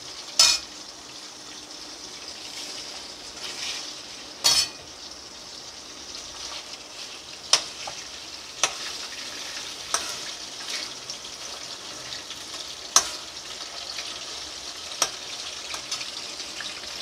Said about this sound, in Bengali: এবার আমি চিকেনটা একটু ভেজে নেব